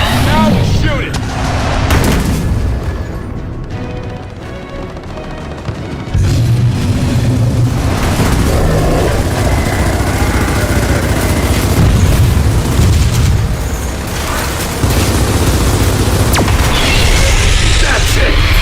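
Gunfire and explosions in the video game Gears of War, a loud, dense barrage of booms and rumbling blasts running continuously, with voices shouting over it at times.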